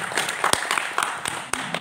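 Scattered clapping from a small audience at a kickboxing referee and judge training session, brief and uneven with distinct individual claps.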